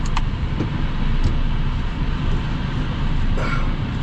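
A truck engine runs steadily with a low, continuous rumble as the vehicle drives off to hitch a trailer. It is close and even throughout, with a few faint clicks above it.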